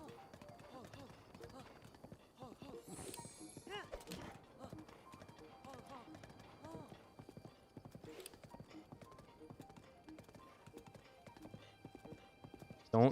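Rhythmic clip-clop of a horse galloping in the video game Zelda, steady hoofbeats with an occasional whinny under ongoing talk from a player.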